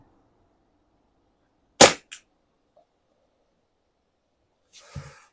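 An Artemis CP2 air pistol fires one sharp, snappy shot with a brief follow-up click, shot from a rest bag at a 30-metre target, and a faint thud or rustle comes a few seconds later in otherwise quiet surroundings.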